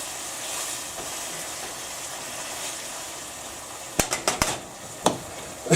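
Sesame ginger beef and onion stir-frying in a pan, a steady close sizzle that turns into a quick run of sharp metallic clanks and scrapes as the utensil strikes the pan, heard alone without talk.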